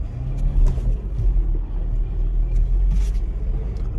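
An old car with no brakes rolls under its own power, its engine giving a steady, loud low rumble with road noise and faint rattles throughout.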